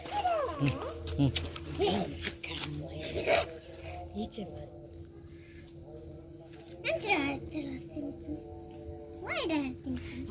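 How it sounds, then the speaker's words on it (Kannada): Hungry street dogs whimper and yelp in short, rising cries scattered through the clip as they eat, while people talk nearby. "ನೋಡಿ ನಾಯಿಗಳು ಸುತ್ತುವರಿತಾ ಉಂಟು"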